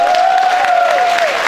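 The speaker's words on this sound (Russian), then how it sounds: "Аплодируйте ему." Audience applause fills a university hall, steady dense clapping throughout, loud and close, with a sustained whistle-like tone running over it.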